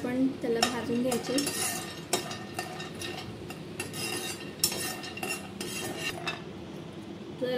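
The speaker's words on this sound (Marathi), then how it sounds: "मी पहिले शेंगदाणे टाकून घेते। शेंगदाण्यांना गोल्डन ब्राऊन येतीपर्यंत आपण त्याला भाजून घ्यायचे।" Peanuts dry-roasting in a pan on a gas stove, with a spoon or spatula repeatedly scraping and clinking against the metal in an irregular rhythm, close and moderately loud, with no voices.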